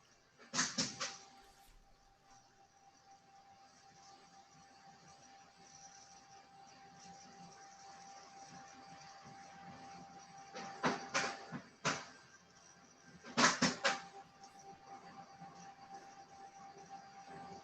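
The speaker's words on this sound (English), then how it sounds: "I hear some extra clanging, like a printer drawers opening and closing or something." Clanging of printer drawers opening and closing: a few sharp metallic bangs in separate bursts near the start and about two-thirds through, over a steady machine hum, with no talk.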